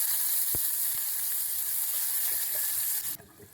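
Onions sizzle and fry steadily in a hot pan while being browned to golden for kalathappam, a traditional Kerala sweet, with a few sharp spatter pops before the sizzle cuts off abruptly near the end.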